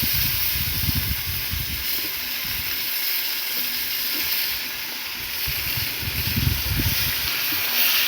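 Pieces of pangas fish hiss and sizzle steadily in hot oil in a pan, a continuous close frying noise with faint low clatter underneath, no talking.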